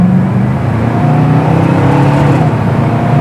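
A 1968 Pontiac GTO with its stock Detroit V8 accelerating, a loud close, deep engine roar that holds steady for a few seconds with no voices.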